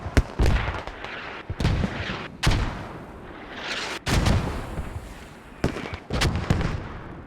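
Mortars fire repeatedly in a military shooter match between BLUFOR and TLR, with sharp, loud booming shots at irregular intervals, several close together, each followed by a short rumbling decay.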